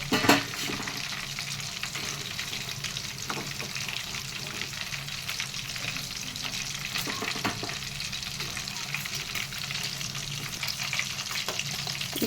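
Chicken 65 pieces deep frying in hot oil over high heat: a dense, even hiss of bubbling oil holds steadily from start to finish, with a brief clatter at the opening and a few light ticks.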